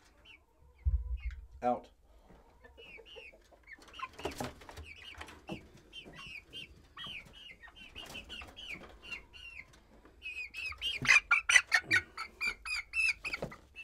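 Chickens clucking and squawking inside a farm chicken coop, scattered calls rising to a busier burst near the end, with a person talking intermittently over them and some wing-flapping.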